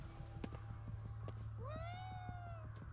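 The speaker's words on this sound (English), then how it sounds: "This whole market area is just full of cats." A cat meows once, a clear rising-then-falling cry, over a low steady hum and soft ticking in the market area of the video game Ghostwire: Tokyo.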